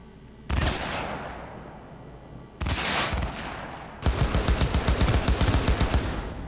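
Gunfire in Cyberpunk 2077: two loud single shots, each ringing out with a decaying tail, followed by a rapid automatic burst of closely spaced rounds.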